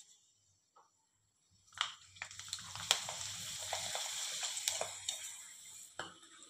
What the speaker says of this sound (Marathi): आता मी तुम्हाला हा पापड तळून दाखवते